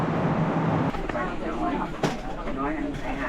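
A passenger train in Laos rumbles steadily along the track with a continuous low drone and occasional clunks, heard from inside a carriage while people talk over it.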